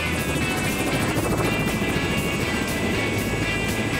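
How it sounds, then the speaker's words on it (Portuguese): A helicopter coming in to land at a helipad near a beach house, its rotor and engine a loud, constant close thrum that fills the whole stretch. "O helicóptero já se prepara para pousar."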